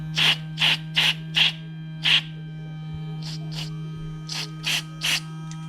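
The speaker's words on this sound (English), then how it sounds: "And this is spray." Several short, sharp hisses from a spray can, some in quick succession and others spaced apart, over a steady low mechanical hum.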